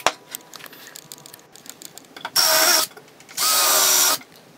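Two bursts from a power drill driving screws into wooden runners, each lasting roughly half a second to a second, loud and close, with quieter workshop clatter before them.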